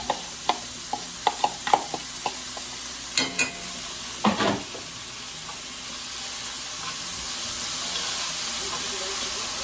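Red peppers being stirred in a sizzling pan, a steady frying hiss running throughout with a few clattering utensil knocks and scrapes early on, then settling into continuous sizzle.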